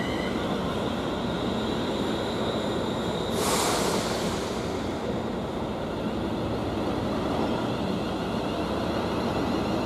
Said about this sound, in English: now arriving in is a service to Crewe